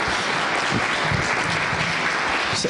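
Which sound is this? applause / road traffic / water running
applause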